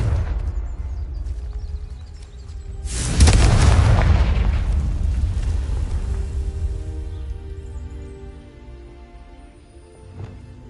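A Confringo blasting spell in Hogwarts Legacy sets off a loud booming explosion with a heavy low rumble that slowly fades over several seconds, followed by a small later pop.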